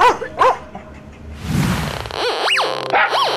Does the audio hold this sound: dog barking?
yes